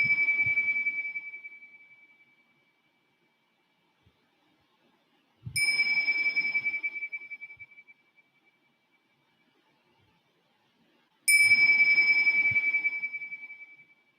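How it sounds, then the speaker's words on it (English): Three strokes of a meditation bell, evenly spaced about five to six seconds apart, each a clear bright ring that fades slowly into silence before the next strike. "with the sound of the bell"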